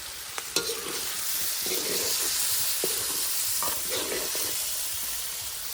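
Pork cooks over an open fire, sizzling steadily up close, with a spatula stirring and scraping through the meat in short bursts.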